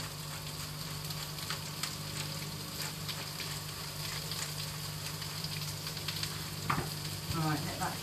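Food sizzling on a grill seasoned with salt and pepper, a steady crackling fry with scattered pops, fairly quiet and continuous, with a few handling clinks near the end.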